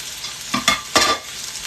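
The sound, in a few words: pork chops sizzling in oil in a frying pan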